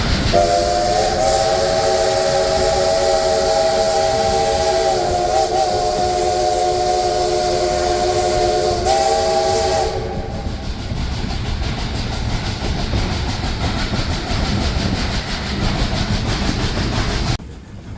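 A Cumbres & Toltec steam train sounds a long, loud whistle blast over hissing steam and rolling rail noise, then the whistle stops and the train rumbles on alone.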